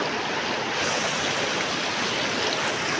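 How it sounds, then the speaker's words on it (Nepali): A big river flows steadily as a continuous broadband rush of water, fairly close and loud throughout with no voices. "खोला चाहिँ लास्टै ठुलो रहेछ"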